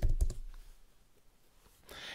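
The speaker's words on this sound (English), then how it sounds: "you should be able to type rails --version" Computer keyboard keystrokes typing the rails --version command while setting up Ruby on Rails on Windows, a short burst of clicks at the start, then near silence and a faint rustle at the end.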